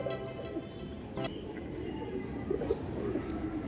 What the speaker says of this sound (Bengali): এটাও কিন্তু ইম্পোর্টেড পায়রা